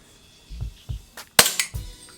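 Umarex Glock 34 CO2 airsoft pistol firing rapidly, a few sharp close snaps including one loud crack, with softer thumps between, no talking.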